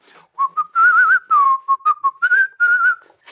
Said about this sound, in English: your whistling sounds great